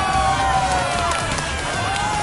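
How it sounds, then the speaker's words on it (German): A crowd cheers and applauds for the winner of a challenge in Final Fantasy VII Rebirth, a loud, steady wash of clapping and cheering with bright tonal game sounds layered over it. "Einen kräftigen Applaus für den Sieger unserer heutigen Herausforderung!"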